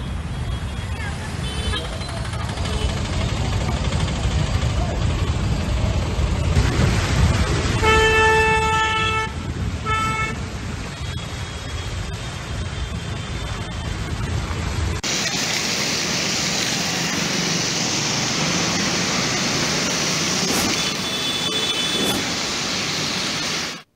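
Traffic jammed on rain-soaked roads in Hyderabad during a heavy downpour, with car horns tooting repeatedly over a constant wash of rain and engine rumble, and a sharper, denser rain hiss later on.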